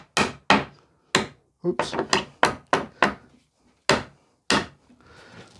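A hammer taps nails back through wooden pallet boards, a series of about a dozen sharp, close knocks in uneven rhythm, with a brief spoken word near the end.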